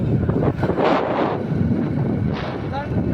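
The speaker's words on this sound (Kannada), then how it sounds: "ಗಾಳಿ ಬರ್ತದೆ." Gusty outdoor wind buffets the microphone in uneven, roaring bursts, loud and close, with no other clear sound standing out.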